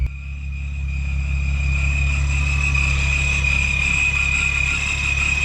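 A VW VR6 car engine running at a steady idle-like drone, a strong low rumble with a faint high whine, close and continuous without speech.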